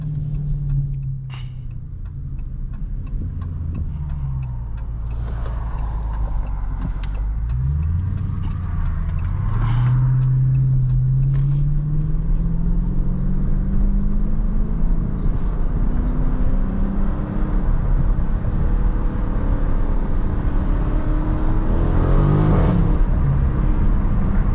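A Scat Pack widebody car's V8 revs and pulls in second gear from inside the cabin, a loud rumbling engine whose pitch rises and falls in repeated sweeps, with a steady whir underneath and no talk.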